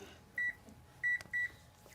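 Three short electronic beeps from a microwave oven as it is set for five minutes and started during a Thanksgiving cooking session, with faint room noise between the tones.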